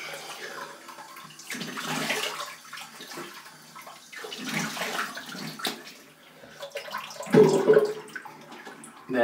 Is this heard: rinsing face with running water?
yes